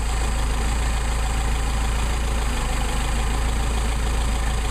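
A Mercedes 190SL engine idles steadily with Solex carburetors under adjustment, a continuous low rumble with a faint even pulse, close and constant throughout with no voices.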